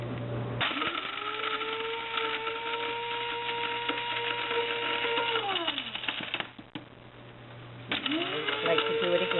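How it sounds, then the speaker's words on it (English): An electric grinder powders dried tomatoes with a steady, loud motor whine that runs for several seconds, winds down, falls briefly quiet, then starts up again. "I'm putting them in my grinder so I can make tomato powder."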